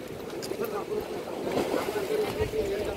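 Sea waves wash around small fishing boats near shore, a rough continuous surging rumble with splashes, while a person talks over it.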